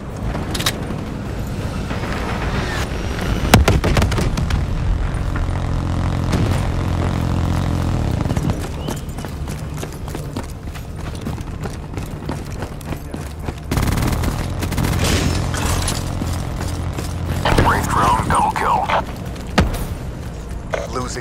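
Heavy explosions and rumbling blasts from a Hellstorm missile strike in the Call of Duty Black Ops III multiplayer match, loud and sustained, layered with gunfire and game announcer callouts.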